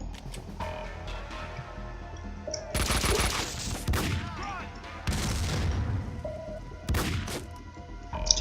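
Gunfire in Max Payne 2 comes in loud bursts of rapid shots with heavy thuds, separated by quieter gaps.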